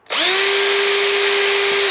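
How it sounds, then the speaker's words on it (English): Power drill fitted with a 1/4 inch bit, drilling out a hole during an engine swap on a Baja buggy: one continuous loud, close motor whine that spins up quickly, holds steady for nearly two seconds and then stops. "we're going to drill this out"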